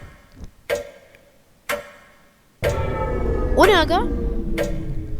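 A ticking clock in the horror video game Doors, its regular ticks sounding under a speaking voice, with louder game noise and a brief rising musical sweep joining in partway through.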